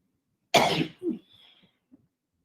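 A single sharp cough from a man, close and alone in a quiet room, followed by a smaller throat-clearing cough and faint breaths.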